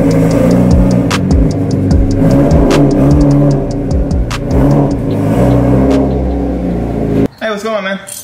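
Porsche engine revving up close, a loud rough rumble with a clicking tick, steady then easing before a brief burst of other noise at the end.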